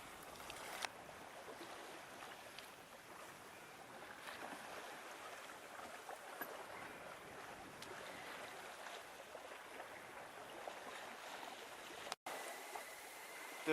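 A sailboat crossing Moreton Bay under jib alone at about seven knots with the tide, heard as a steady wash of water and wind rushing past the hull, continuous and fairly faint, with no talking.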